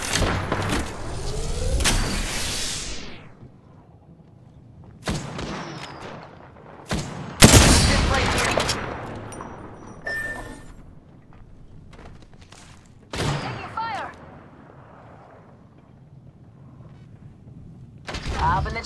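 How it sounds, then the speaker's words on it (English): Gunfire in Apex Legends arrives in several separate loud bursts of rapid shots with quieter gaps between them, spread across the stretch with some high whooshing sounds. "Listen up, I'm getting shot at."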